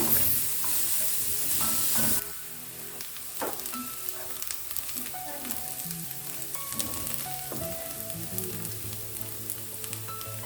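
Onions frying in cooking oil in a pan for spiced-up Indomie with sausages: loud, steady close sizzle, briefly louder at first, with occasional spatula scrapes and knocks.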